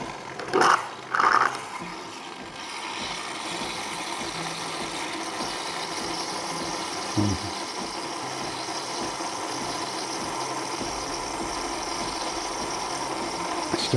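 A Delonghi Eletta Explore fully automatic coffee machine runs with a steady mechanical hum and whir, after a couple of brief knocks at the start and a faint click midway.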